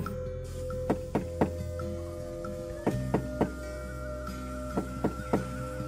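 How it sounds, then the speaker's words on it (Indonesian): Several sharp raps of a knock on a house door at night, sounding in small clusters of two or three hits over a low steady background hum, fairly close and crisp with no voices. "segera ia pun mengetuk pintu."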